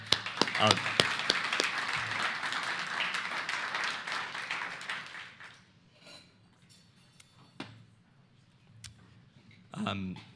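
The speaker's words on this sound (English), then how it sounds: "I'm actually going to ask for another round of applause for that." An audience at an architecture lecture on the Bauhaus claps for around five seconds. The applause then fades into near silence, broken by a few scattered taps, and handling noises follow.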